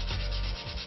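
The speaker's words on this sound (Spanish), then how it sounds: "Lijando." Wood is sanded by hand, a close, steady rasping rub with rhythmic back-and-forth strokes filling the whole moment, no voices.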